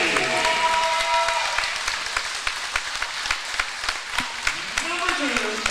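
A volleyball crowd at a high school match between Gideon and Advance cheers and claps loudly during player introductions, with sharp hand claps standing out above a broad roar while an announcer talks over it.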